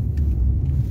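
A car driving on a winter road, heard as a loud, steady low engine and road rumble from inside the vehicle.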